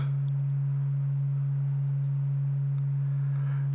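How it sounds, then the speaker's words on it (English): A modular synthesizer produces a pure, steady low sine-wave tone that hums continuously without change, with faint hiss and scattered clicks behind it. "Nice little sine wave."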